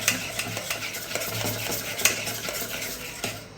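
A spoon stirs thick potato bonda batter in a bowl, with steady, close, wet scraping and slapping strokes repeating throughout and no voices.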